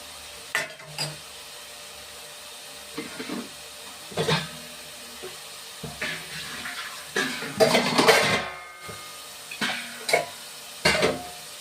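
Fish pieces go into a pan for fish pulusu, making several separate clunks and splashy sizzles. A louder wet bubbling spell comes in the middle, and the bursts are spaced irregularly against a quiet background.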